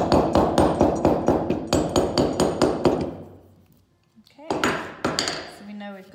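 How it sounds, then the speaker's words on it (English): Hammer tapping leather onto a shoe last during handmade shoemaking: a fast, even series of sharp close taps, a brief pause, then a few more strikes. "I sometimes give it a little tap with a hammer just to make sure it's sitting flush"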